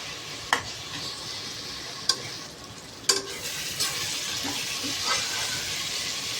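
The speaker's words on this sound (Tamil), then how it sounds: "நல்லா அந்த இஞ்சி பூண்டு பச்சை ஸ்மெல் போகணும், அந்தளவுக்கு நல்லா வதங்கணும்." Ginger garlic paste sautéing in a pan gives a steady soft sizzle and hiss, with a few sharp utensil taps against the pan as it is stirred.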